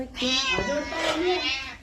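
A kitten meows close by at home in a drawn-out, wavering cry, with a voice speaking over it.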